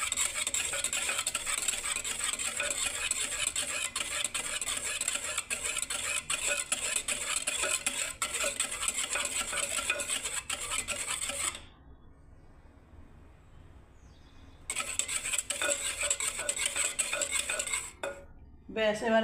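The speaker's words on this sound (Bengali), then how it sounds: "আমি এখনও ঘাটছি বন্ধুরা, দেখুন দইটাকে।" Yogurt stirred in a metal pot with a spoon, the utensil scraping and clinking steadily for most of the time, a short lull in the middle, then the stirring resumes.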